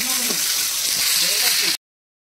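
Hot oil in a pan sizzles with dried red chillies, black peppercorns and sugar, giving a loud, even, hissing fry that runs under a voice until it cuts off suddenly.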